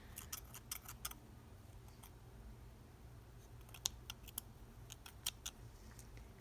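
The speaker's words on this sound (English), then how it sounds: "So you cut a long strip of yarn," Scissors snip through a long strip of yarn, a quick run of faint, crisp clicks near the start and scattered sharper snips later over a low, quiet background hum.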